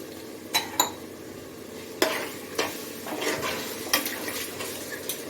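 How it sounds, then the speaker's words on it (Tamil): Tomatoes and yogurt cooking in a pan for mushroom biryani, with a soft steady sizzle under scattered sharp scrapes and clinks of a spoon stirring against the pan, close and alone without talk. "இப்போ தக்காளி ஒரு 2 நிமிஷம் நல்லா வதங்கிட்டு இருக்குது"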